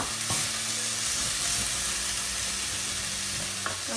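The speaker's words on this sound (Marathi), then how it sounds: "त्या कोळंबी आपण चांगल्या आधी फ्राय करून घ्यायचे।" Prawns frying in a pan with ground masala for a Malvani curry, a steady close sizzle with occasional scraping stirs and a faint low hum underneath.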